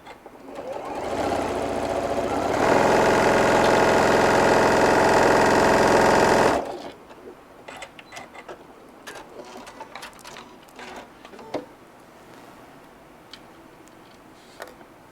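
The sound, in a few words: sewing machine stitching brim hat pieces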